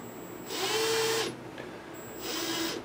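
A Milwaukee M18 cordless drill powered from a wall power supply whirs in two short bursts, spinning up briefly, stopping, then running again close by in a quiet room.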